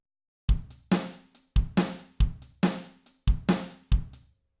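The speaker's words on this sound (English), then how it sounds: "it's a basic thing with a kick, a snare, and a hi-hat" A basic drum kit pattern of kick, snare and hi-hat plays alone, with about ten sharp, evenly spaced hits in a steady looping rhythm, each decaying quickly into silence.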